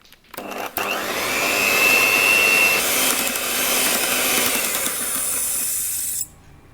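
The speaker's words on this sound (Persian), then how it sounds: "بقیه پودر قند و وانیل رو اضافه میکنم و دوباره هم میزنم تا پوک و سفید بشه" An electric mixer beats powdered sugar and vanilla into a coconut cookie mixture, whirring loud and steady for several seconds after a brief start-up, then cutting off abruptly.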